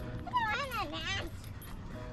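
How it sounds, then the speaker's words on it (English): Dog at an outdoor dog park giving a few high whimpers and yips, near and brief, with people talking over much of it. "This is my dog. Oh, yeah? He's a good dog."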